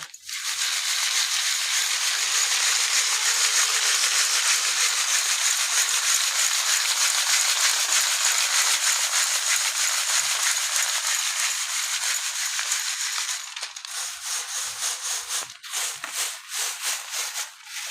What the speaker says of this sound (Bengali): এ কটা আমি চেলে নিচ্ছি বাকি ধানগুলো পরে ভাজবো